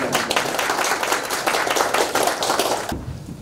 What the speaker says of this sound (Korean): 여러분 큰 박수 주시기 바랍니다.